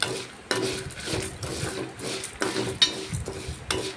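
Dried red chillies frying in oil, with rhythmic spatula stirring strokes roughly every half second over a soft sizzle, close and moderately quiet.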